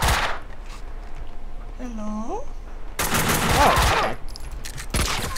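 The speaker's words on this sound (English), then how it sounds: "Why are you shooting?" Rapid bursts of gunfire from the Max Payne 2 video game, loud automatic volleys dominating the second half with an earlier burst at the start, heard over game ambience and brief electronic tones.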